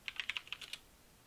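Close, quiet keystrokes on a computer keyboard, about eight quick taps in a short irregular burst with no speech.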